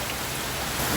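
Heavy rain falling outdoors, a dense continuous hiss with no voices, loud and even for about a second.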